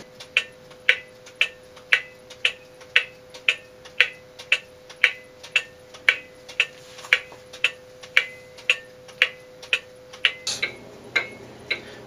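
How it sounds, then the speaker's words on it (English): Antique cuckoo clock ticking in an even, steady beat after repair, about two crisp ticks per second, close and clear with a faint background hum, until a brief rustle near the end. "That's the sound of a clock that's back in beat."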